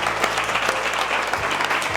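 Enthusiastic applause from a classroom audience at a coaching institute, steady dense clapping throughout, close and fairly loud with no talk over it.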